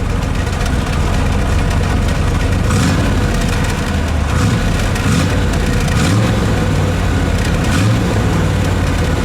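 A red 1963 Chevrolet Corvette convertible with its fuel-injected engine runs loud and close, a rough idle swelling into several revs and settling back, with no voices.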